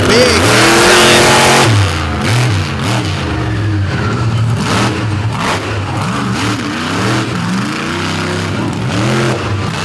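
A pulling truck engine roars on the track at a Benson, North Carolina pulling event, loud and close, with sustained revving that rises and falls in repeated surges.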